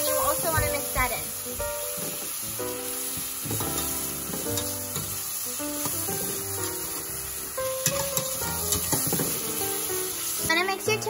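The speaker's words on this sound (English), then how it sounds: "Add your ginger garlic paste, you want to saute for at least 2 minutes, and then you want to add your tomatoes." Tomatoes with ginger garlic paste sizzle and sputter in oil as they are stirred in a pan for a South Indian mutton biryani, a steady frying hiss with scraping stirs, under music and someone talking.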